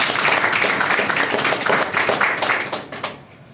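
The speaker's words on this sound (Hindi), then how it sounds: "एक बार इसके लिए जोरदार तालियां हो जाए" An audience breaks into loud, sustained applause at a Hindi-language health talk, dense clapping filling the room for about three seconds before fading away.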